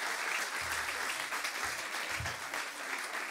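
A church congregation applauds to welcome newcomers, a steady, fairly soft wash of clapping lasting a few seconds with faint low voices beneath.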